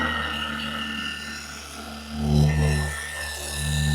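A Rupes HLR75 polisher runs at speed 3 on a car bumper, a continuous close motor hum and whir with a steady tone that swells slightly midway.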